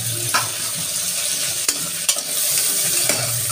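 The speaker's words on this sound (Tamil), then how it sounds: "வதக்கிறதுக்கப்புறம் மீடியம் சைஸ் தக்காளி 1 எடுத்துருக்கேன். இதையும் போட்டு நல்லா வதக்கிக்கோங்க." Chopped medium tomato sizzles in hot oil in a pan for vegetable biryani, with a steady close frying hiss and a few sharp spoon knocks as it is sautéed.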